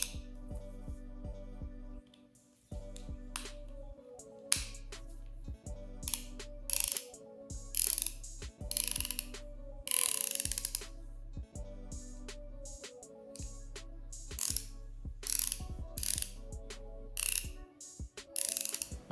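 A Wera Zyklop speed ratchet gives off short bursts of crisp, rapid clicking, repeated in regular spurts with brief pauses between them, close and clear with no talking.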